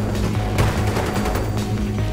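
Gunfire in the Battlefield 3 video game, a loud dense rattle of overlapping automatic shots and rumbling booms filling the whole short stretch, with no voices.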